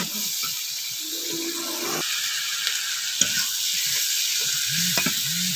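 Dried chapa fish stir-frying in a pan with salt, a constant bright hiss of sizzling oil close by, with a few faint clicks and brief tonal sounds in the background.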